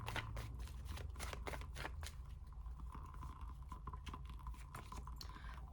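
Tarot cards are handled and shuffled, with a quick burst of crisp riffling flicks at the start, then softer scattered rustles and slides close by.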